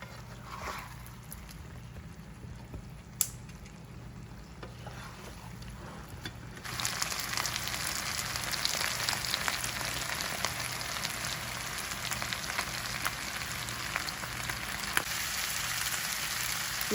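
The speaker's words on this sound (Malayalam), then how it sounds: "ഇതിലേക്ക് വേവിച്ച് വെച്ചിരിക്കുന്ന ചിക്കൻ ഇട്ട് ഒന്ന് സ്റ്റിർ ഫ്രൈ ചെയ്തെടുക്കണം" Cooked chicken is stir-fried for a masala chicken roast, starting as a quiet low hum before a loud, continuous crackling sizzle takes over and keeps going steadily to the end.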